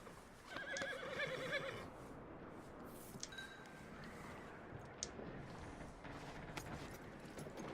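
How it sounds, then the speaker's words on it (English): In the Red Dead Redemption 2 Wild West game, a horse whinnies with a couple of short, fairly close calls early on, followed by quieter ambient outdoor sounds and a few faint thumps. "Ну, успокоить лошадку."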